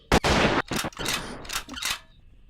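Close-range gunfire in the game Rust aimed at a lantern: a few loud, sharp shots in quick succession, each with a brief ringing tail, no talking.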